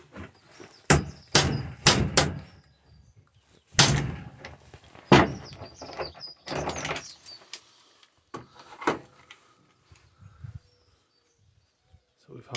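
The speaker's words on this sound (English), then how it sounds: "Just gonna try and hammer that out." Sharp metallic hammer blows ring out in bursts as a wheel bolt is hammered out, several quick strikes then spaced single hits, close and loud with a quiet pause near the end.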